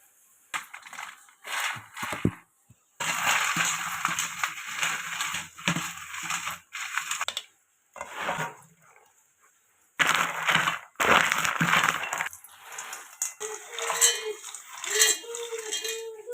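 Hot roasted groundnuts for sweet laddu being ground to a medium powder in a grinder, a loud coarse whirring roar in several pulsed bursts with brief pauses between them.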